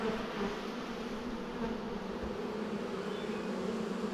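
A honeybee swarm buzzes steadily around the lid of a hive box, a dense, continuous hum held at a constant level from start to finish with no voices.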